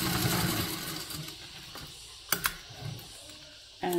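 A sewing machine basts fabric together for a zipper pouch, a steady mechanical whir close by that slows and pauses, broken by a couple of sharp clicks near the end.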